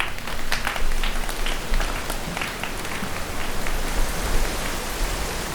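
Many hands clapping together to imitate a heavy downpour, a dense, steady wash of close applause-like patter that sounds like pouring rain.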